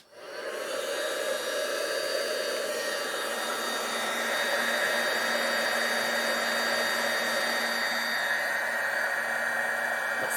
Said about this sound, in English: I'm going to heat emboss this on camera